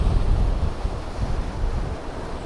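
Ocean waves rolling in on a windy shore below a castle, with a loud, steady surf roar and buffeting wind noise on the microphone, no talk.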